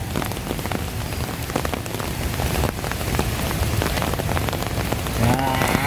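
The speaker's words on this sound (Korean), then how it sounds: "오 갑자기 비가 엄청 옵니다" Heavy tropical rain pours steadily onto a street in Chiang Mai, Thailand, a dense continuous hiss with scattered drop impacts, close and loud throughout, with a faint rumble underneath and no talking.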